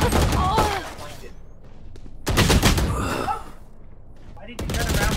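Bursts of rapid gunfire in the tactical shooter game Valorant, loud and close, coming in three dense volleys separated by brief lulls, with game sound effects between them.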